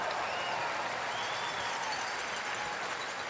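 Audience applause at a Sweden versus USA curling match during the 2014 Continental Cup, a steady wash of clapping from a distant arena crowd filling the whole moment.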